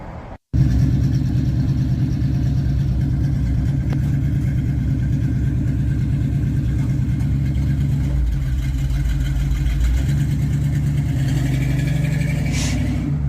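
A Chevy pickup truck's engine runs steadily and loudly close by, a low, even rumble with a faint rise in revs, heard alone without talk.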